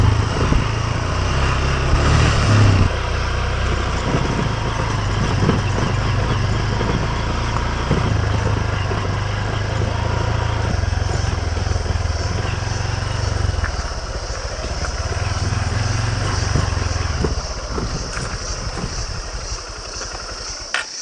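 A rental motorcycle engine drones steadily while riding in the Indonesian jungle, loud and close, with a constant low rumble and shifting road and wind noise.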